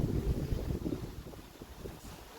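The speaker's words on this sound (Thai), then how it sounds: "ดูสิลมมันแรงขนาดนี้" Strong wind blows outdoors in New Zealand, a continuous low buffeting rumble against the microphone that swells and eases slightly, with no one speaking.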